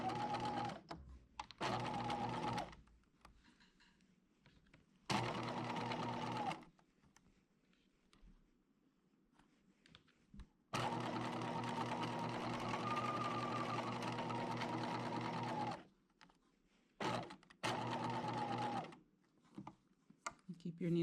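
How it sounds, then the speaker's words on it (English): Sewing machine stitching a 5/8 inch seam in fabric, with loud steady whirring runs broken by stops and short back-stitch bursts, including one long continuous run. "And we're going to sew this with a 5/8 of inch seam allowance."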